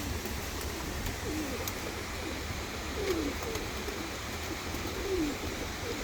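Soft coos of hungry tumbler pigeons repeat a few times at feeding time over a steady low background hum, faint and somewhat distant.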